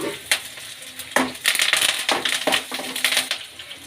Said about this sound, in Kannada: ಈಗ ಕರ್ಬೇವಿನ ಸೊಪ್ಪು ಹಾಕ್ಕೊಳ್ಳೋಣ